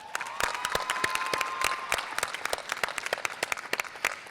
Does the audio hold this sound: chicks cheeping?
no